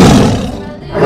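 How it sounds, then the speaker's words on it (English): A tiger's loud, close roar in a zoo-animal sound sequence, one deep rasping call that swells, fades briefly and rises again at the end. "Tiger."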